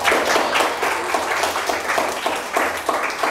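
Junior high students in a literature classroom clap their hands in loud, uneven bursts, a lively group applause close to the listener with rhythmic surges.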